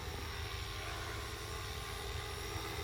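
A Blade Eclipse 360 RC helicopter hovers close by, its rotors producing a smooth, continuous whirring buzz at steady volume with no voices.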